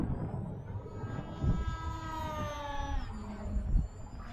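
A scratch-built FT Super Bee RC airplane on a 3S battery flies overhead, its electric motor whining steadily with pitch rising and falling as it passes at moderate distance.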